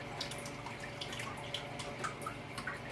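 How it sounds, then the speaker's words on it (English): Water trickles and drips softly over orchid roots in a semi-hydro pot, a faint, steady pour with scattered droplet splashes and no voices. "That's how I water my orchids and fertilize them every time."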